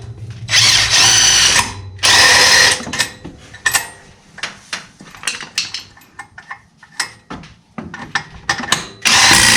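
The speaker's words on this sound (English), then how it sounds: "we'll start it with the DeWalt" A DeWalt power tool, likely an impact driver, runs in loud bursts as it tightens a bolt while fixing a broken clutch housing on a Maverick X3, with a long opening burst followed by shorter rattling pulses and a final burst.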